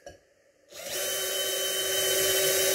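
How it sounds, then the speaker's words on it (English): A power drill spins up after a quiet moment of faint handling noise, then runs at a steady high-pitched whine, loud and close, sustained with no voices. "I'm going to drill."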